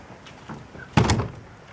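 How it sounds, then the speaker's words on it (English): A door is pushed shut with a single solid thud, short and fairly close, after a brief stretch of faint movement. "Can you come shut the door?"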